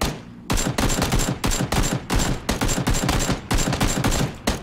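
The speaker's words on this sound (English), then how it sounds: "Someone else is shooting at him." Rapid automatic gunfire in PUBG rattles in a dense, continuous stream of loud shots with brief gaps between bursts.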